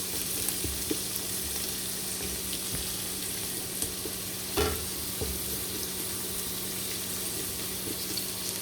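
Onion frying in a pan for chicken pasta, a steady close sizzle and crackle that runs on its own with no talk, with a brief stir or knock partway through.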